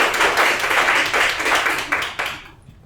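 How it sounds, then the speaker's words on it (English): A crowd at a crypto demo showcase in Toronto breaks into brief applause, a burst of dense clapping that fades out within three seconds. "round of applause for Lisan"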